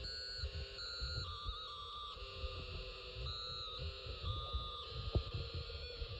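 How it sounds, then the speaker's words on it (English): Snap Circuits electronic sound kit producing sci-fi tones with echo, stacked steady electronic pitches that step and shift through the whole stretch, with a buzzy low throb beneath and a brief click near the end. "The notes that you play may remind you of sounds from aliens or alien spacecraft."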